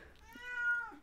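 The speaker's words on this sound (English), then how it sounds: "You'll hear her meowing." A single drawn-out meow from a house cat, a steady tonal call with a slight rise and fall that lasts about a second, fairly faint and close, with no talk.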